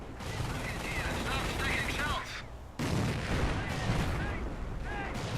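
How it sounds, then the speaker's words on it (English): Rapid gunfire and cannon blasts from a Panzer tank in the real-time strategy game Company of Heroes, dense and continuous with a brief lull midway, mixed with battlefield noise. "The Panzer is able to fire more quickly."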